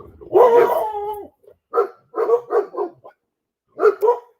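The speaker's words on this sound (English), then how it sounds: "Groot, Sandy, say good morning to the neighbor. Come here. Hey, puppy dogs" Dogs bark outdoors in the morning, one long howling bark followed by a run of shorter, close, loud barks with brief pauses between them.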